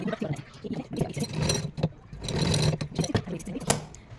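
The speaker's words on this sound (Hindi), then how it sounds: "किनारे पर यहाँ पर हम 2-3 सिलाई लगा देंगे पक्का करते हुए" A sewing machine stitching the edge of a small fabric dress for a deity figure, its motor whirring in bursts that start and stop, with someone talking over it.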